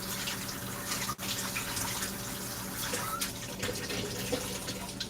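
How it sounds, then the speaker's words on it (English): A kitchen knife being rinsed under a running tap, a steady, fairly loud rush of water that splashes continuously for about five seconds with one brief dip. "I'm going to try to wash off this knife."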